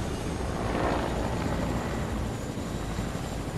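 Helicopter in a shooter video game: a steady, loud whirring roar of rotor and engine that fills the whole stretch without a break, with no one talking over it.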